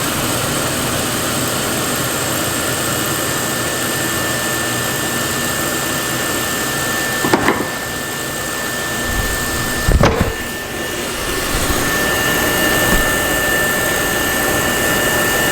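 Lanair MX 200 waste oil furnace running with a flame burning inside, giving a steady broadband roar like an engine or blower that holds throughout, broken by two brief louder knocks or clanks partway through. No one speaks.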